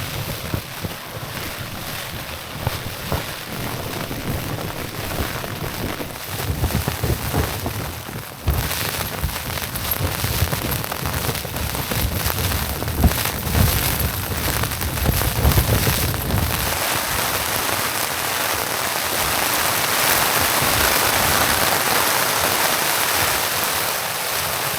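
Heavy rain and gusting wind thrashing a Hilleberg Nallo tent during wild camping, a loud, continuous roaring patter on the fabric that surges and swells over time, with no talking.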